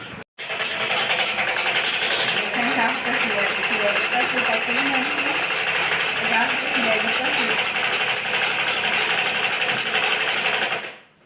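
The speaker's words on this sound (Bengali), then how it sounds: "এই জন্য কাপড়টি সেলাই করতেছে" Sewing machine stitching fabric for an order, running steadily and loudly for about eleven seconds with a dense mechanical whirr and rattle, starting abruptly and cutting off at the end.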